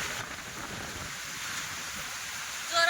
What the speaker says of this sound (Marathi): कुठतरी पाऊस पडायला आलाच जोराचा पाऊस.